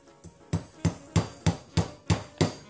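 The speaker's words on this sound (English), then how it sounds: "hammering that pin without a punch because you don't have another hand to hold the punch" Hammer tapping a pin into the extractor of a CZ 75 SP-01 pistol slide without a punch, seven sharp metallic strikes in a steady, evenly spaced rhythm, close and alone.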